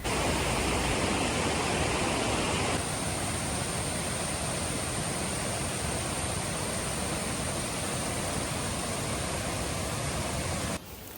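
Steady broadband roar of Aruvikkuzhi waterfall, a dense continuous wash of falling water close by that stays even throughout, easing slightly near the end.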